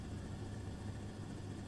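Helicopter flying in the AirLand FS flight game, a steady low rotor and engine drone that holds evenly at moderate loudness throughout, with no voices.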